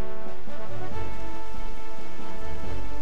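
Sudden rain in Zelda Wind Waker HD, a loud steady patter of rain on surfaces with a low rumbling bed and game music tones, alone without talk.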